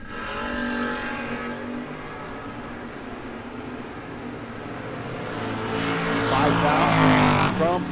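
Drag race cars, including a 1986 Cutlass, launching at a No-Box 660 Shootout, a loud sustained engine roar building toward the end, with an announcer talking underneath.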